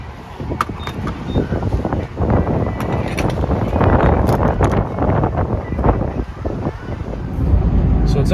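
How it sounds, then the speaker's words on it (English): Strong wind roars and buffets against the microphone continuously, loud and rough, with a low rumble like passing traffic underneath. "it is like incredibly windy out here"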